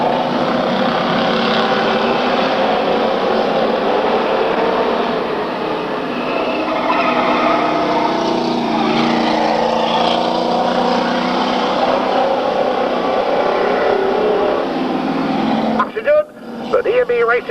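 Race cars cross the finish line as the checkered flag falls, including the D&B Racing Team automobile. A loud, continuous engine drone runs throughout beneath an announcer's talk, then briefly dips near the end.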